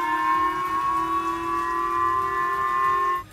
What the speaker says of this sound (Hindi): जापान के कई हिस्सों में खतरे का सायरन तक बजने लगा था